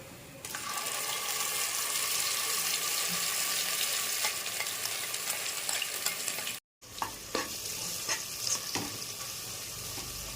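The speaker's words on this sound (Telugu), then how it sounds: "పేస్ట్ నూనె వేసుకుంటాం" Paste frying in oil in a pan for chicken pulao, a steady loud sizzle with occasional stirring clatter, broken by one brief cut.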